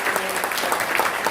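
Audience applause at a Korean political party book concert event, a dense steady patter of many hands clapping, loud and close throughout.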